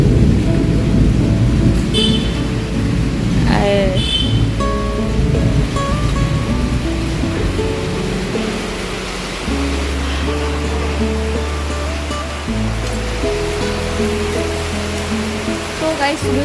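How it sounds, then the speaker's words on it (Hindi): Steady morning rain and rolling thunder in Ghaziabad, India fill the background, loud and continuous, with a few brief tonal sounds drifting over the wash of noise. "बारिश पड़ रही है आज सुबह गाजियाबाद की बारिश"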